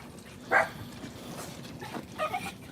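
Dogs meeting someone in a back garden let out two short, sharp yelps or barks, the first loud and close and the second softer, over quiet background hiss.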